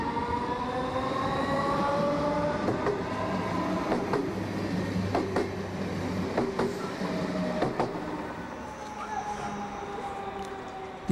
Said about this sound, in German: Die Fahrzeuge gehören zur Baureihe 425, die in vielen Regionen im S-Bahn- und Regionalverkehr im Einsatz ist.